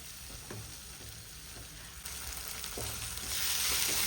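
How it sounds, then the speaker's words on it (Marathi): Ground masala frying in oil on high flame hisses steadily close by, with a few soft stirring scrapes, and the sizzle grows louder toward the end. "त्यामध्ये 5 ते 10 मिनिटं चांगला मसाला हाय फ्लेमवर फ्राय करायचा"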